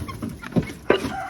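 A silver laced Cochin hen gives a few soft, short clucks up close in a quiet barn.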